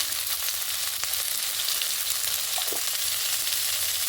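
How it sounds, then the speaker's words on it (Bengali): Vegetables frying in a pan seasoned with salt, turmeric and chili powder, a steady close sizzle with a couple of soft stirring knocks, no speech. "এখন সবজিটাকে ভেজে নেব"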